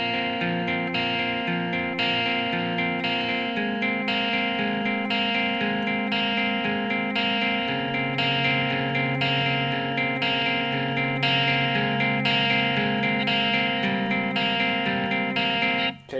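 Clean electric guitar playing the clean section of a song with a steady picked pattern, sustained chords ringing loud and alone throughout.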